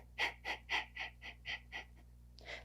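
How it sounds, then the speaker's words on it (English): Sharp, forceful exhales during a core yoga breathing exercise, about eight quick puffs in an even rhythm, close and clear, with no speech. "maybe add the sharp exhales and find your own pace and rhythm and coordinates between your hands and your exhales"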